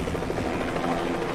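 A helicopter lifting off and departing in the stealth video game Hitman, a steady dense rotor and engine roar held at an even, fairly loud level throughout with no talk over it.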